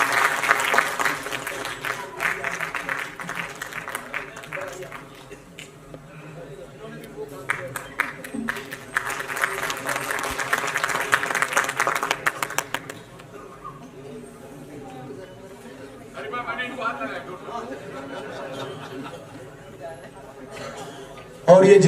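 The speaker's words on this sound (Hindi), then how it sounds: "तो मैं चाहूंगा कि जोरदार ताली हो सकता है।" An audience at a live comedy show gives loud applause in several waves of sustained clapping, fading between bursts, with a voice speaking at times over the room.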